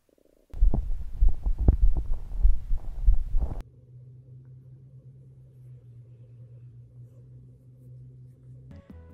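Irregular low gurgling thumps and rumbles for a few seconds, then a steady low hum takes over, close and muffled as if pressed to a microphone.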